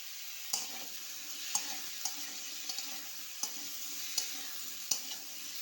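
Potatoes fry in a kadhai with a soft, steady hiss and occasional sharp clicks from stirring, fairly quiet throughout.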